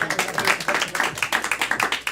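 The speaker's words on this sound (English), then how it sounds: "Clap for Alex" A live comedy show audience claps for a performer, a steady patter of many hands at a brisk, fairly even rhythm, close and continuous with no talk over it.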